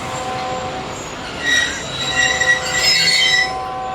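The Jaffar Express passenger train pulls away at departure, giving off a sustained high-pitched squealing, whistling tone. It swells louder midway over a steady rumble of rolling rail cars, and no one speaks.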